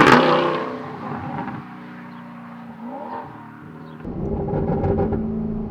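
A 2010s Alfa Romeo 8C Spider, roof up, driving with a deep engine rumble that rises and falls through gear changes and revs, heard from inside the car.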